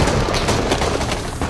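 A gunfire sound effect for a scene of a drug lord firing a gun as he falls in his final shootout: dense, loud, continuous rattling bursts that fill the whole clip, with no talk.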